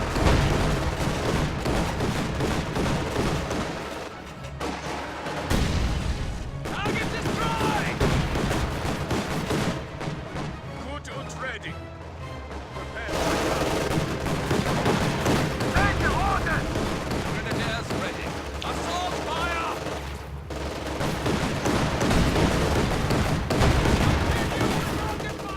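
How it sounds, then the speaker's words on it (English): Artillery barrage and gunfire in the Company of Heroes 2 game, with German LEFG 18 howitzers among the guns: continuous dense rumbling booms and rattling shots fill the whole stretch at steady loudness, with a voice talking faintly beneath. "As you see, this artillery barrage is pretty,"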